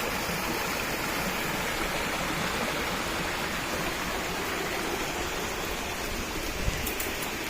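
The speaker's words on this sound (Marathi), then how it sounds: "हा धबधबा, हे पाणी आता कमीत कमी 5 महिने वाहणार आहे." Steady, dense rushing of falling water, a constant loud roar with no pauses, like a waterfall close by.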